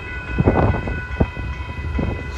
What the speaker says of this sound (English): So yep, there comes a train.